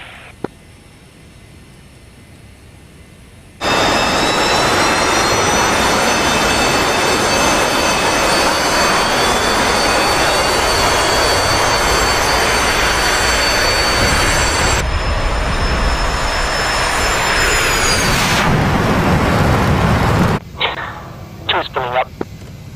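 A simulated jet engine in the DCS World combat flight game spools up after a quiet start, building into a loud, steady roar with a rising whine, then cuts away near the end; speech is heard in the clip.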